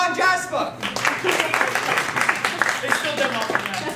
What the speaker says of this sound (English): Applause, beloved